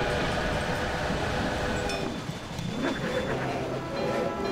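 A freight train hauls wood in the Railway Empire video game, its steady rumbling roll continuing throughout at moderate volume and easing slightly partway through.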